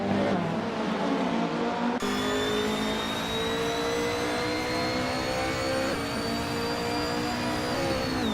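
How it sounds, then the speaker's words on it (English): A 1994 Alfa Romeo 155 TS racing car engine in a racing video game, giving a steady, loud, continuous drone that holds at high revs with a slight rise after a brief shift near the start. "Shadow Army is driving a 1994 Alfa Romeo 155 TS"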